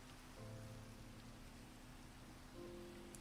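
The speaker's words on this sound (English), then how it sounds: "Oh, so now it's raining." Rain falls in Minecraft as a faint, steady patter, with low sustained tones droning underneath.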